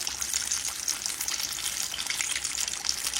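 Fried pies sizzle steadily in hot grease at a tailgate cookout, a dense, continuous bubbling crackle up close with no voices.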